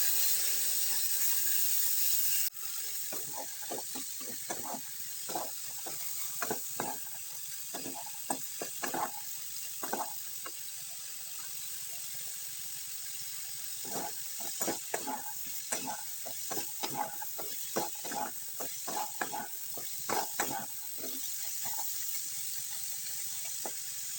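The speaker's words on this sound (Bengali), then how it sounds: "এখন তার মধ্যে দিয়ে দেব মশলা দিয়ে মেখে রাখা এই মটরগুলো দিয়ে ভালোভাবে নেড়ে ছেড়ে ভেজে নেব" Spiced peas being stir-fried in a pan with lightly browned onions, a soft continuous sizzle under repeated scraping stirs that come in quick bursts, fairly quiet and close, without any voices.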